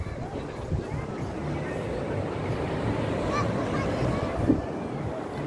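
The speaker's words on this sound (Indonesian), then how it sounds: "Dengar suara ombak kan?" Ocean surf washes onto the beach at Double Six, Legian, Bali, as a continuous low roar under faint crowd murmur and distant voices, with one brief honk-like call.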